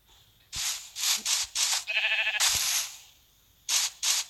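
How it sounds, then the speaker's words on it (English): Sheep bleating in the Minecraft video game: a string of short, bright, fairly loud bursts, one with a buzzy tonal bleat, separated by brief gaps, with no talking. "That's the black sheep I did."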